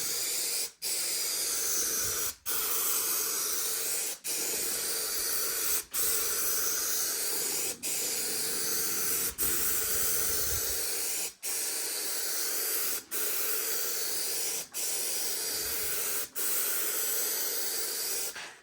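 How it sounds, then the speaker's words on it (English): Aerosol spray can spraying paint or coating in a garage during work on a 1969 Datsun 2000 Roadster, long loud continuous hissing bursts separated by brief regular pauses, close up and alone without talk. "turn it upside down, spray it a little bit"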